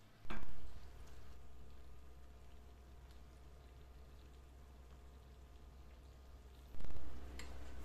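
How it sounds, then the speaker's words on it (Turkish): Fig jam simmers in a pot over low-to-medium stovetop heat, giving a quiet, steady bubbling and crackling texture, with a couple of brief louder knocks at the start and end. "Reçelimiz 25 dakikadır kaynıyor."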